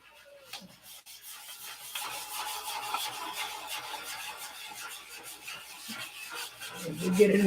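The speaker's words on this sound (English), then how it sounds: "This is 500 now. Sand the circle." Hand sanding a surface with 500-grit sandpaper, a steady close rasping rub that continues without pause, growing slightly louder toward the end.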